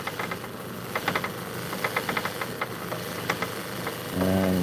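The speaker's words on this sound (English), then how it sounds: "it's a cloth buffer" A motor-driven cloth buffer running at about 1800 RPM polishes stones with a steady motor hum and irregular ticking knocks, followed by a brief tonal hum near the end.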